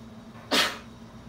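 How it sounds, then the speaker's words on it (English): One sharp, close sneeze bursts out against a quiet background, with no talking around it. "Oh, I'm going to sneeze."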